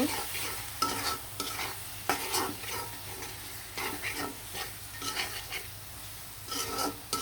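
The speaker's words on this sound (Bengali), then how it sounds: "ভালো করে মশলাটা আমি কষিয়ে নেব" Ground coriander, turmeric, garam masala, cumin and tomato frying together in a pan while a spoon scrapes and stirs them in repeated strokes over a steady low sizzle.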